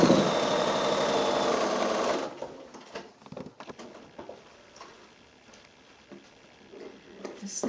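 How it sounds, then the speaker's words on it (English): A sewing machine runs a quilt block seam straight along a marked line, a loud steady whir for about two seconds, then stops and leaves soft handling clicks and rustles. "again sewing straight on that line"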